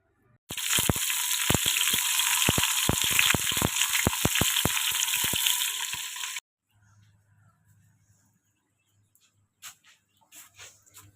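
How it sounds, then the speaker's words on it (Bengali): Cabbage sautéed in a hot karahi gives a loud, close sizzle with repeated clattering stirs for about six seconds, then cuts off, leaving near silence with a few faint clinks and knocks. "বাঁধাকপি ভালো মতো কষাই নিচ্ছি"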